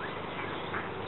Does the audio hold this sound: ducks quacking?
yes